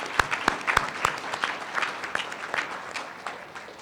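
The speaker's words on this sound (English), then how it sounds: "I think that's a round of applause." An audience claps at the Communities in Bloom national and international awards ceremony, with a few sharp claps standing out above steady, moderately loud applause that fades slightly toward the end.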